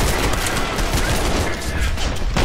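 Dense, continuous automatic gunfire from hip firing in the shooter game Trepang2, a loud, sustained rattle of rapid shots with no pauses across the whole stretch.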